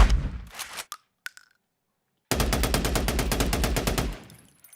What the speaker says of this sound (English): I created different layers taking into account the sounds of a real weapon, such as mechanic, noise, and tail sounds